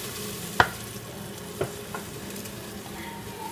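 A couple of spoons of ghee melting in a pan with a soft, steady sizzle, broken by a sharp clink of a utensil and a few lighter knocks.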